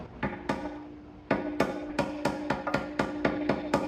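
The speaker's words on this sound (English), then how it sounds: "you'll just want to hammer on the side that's got a little bit of a high spot" Repeated sharp hammer blows ring out close by as a valve cover gasket grommet is hammered into place on a 2004 Honda Accord, a few spaced strikes followed by a quicker, steady run of taps.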